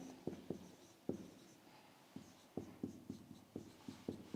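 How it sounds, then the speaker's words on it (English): Chalk or marker taps and strokes on a classroom board during a social science lesson, a quiet, irregular run of short clicks and scrapes spaced through the stretch with no talking. "So in short, I will write it here"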